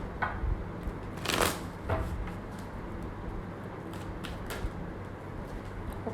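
Tarot cards being shuffled close up, with quiet riffling and a sharp louder flutter as one card flips out, then softer taps and shuffles continuing without talk.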